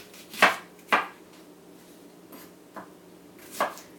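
Onions chopped with a knife on a board: five distinct close knocks at uneven spacing, two firm strikes then softer ones, with quiet gaps between and no talk.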